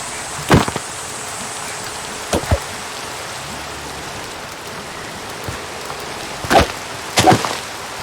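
Rain falls in a Minecraft modpack, a steady soft hiss of rainfall throughout, broken by a few sharp, brief cracking hits scattered across the stretch, with no talking.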